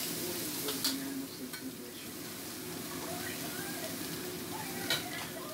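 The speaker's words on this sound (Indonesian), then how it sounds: "Diaduk-aduk dulu sampai merata. Ya, ditumis-tumis," Fried rice with tuna being stir-fried in a pan, a steady sizzle with scraping stirs of the spatula and occasional sharp clinks against the metal, while a person talks over it.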